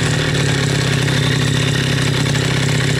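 A warmed-up HM CRE single-cylinder scooter moped runs steadily close by, its engine note loud, even and continuous with a slight throbbing idle rhythm throughout.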